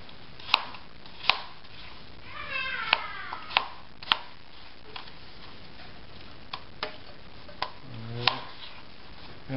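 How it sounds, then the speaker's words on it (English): Sharp knife strikes on a cutting board chopping apple into squares, repeated at an irregular pace with a few quick runs, close and clear with no talking. "all I'm doing is just chopping this up"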